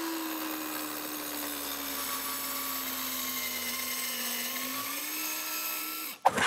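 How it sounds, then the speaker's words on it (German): A Dremel cordless saw station cuts through a workpiece with a steady high-pitched whining motor drone that holds for several seconds, then stops with a brief clunk and rustle at the end. "Und schon haben wir jetzt unseren Schnitt hier gemacht."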